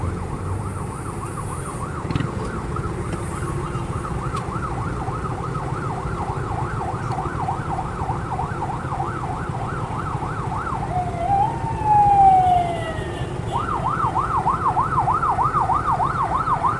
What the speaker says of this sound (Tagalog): Ayan, may wangwang.